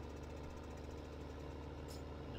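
A tractor engine in the farming video game Farm Simulator 15 runs with a steady, low, rumbling drone and a faint rhythmic knock, fairly quiet and continuous.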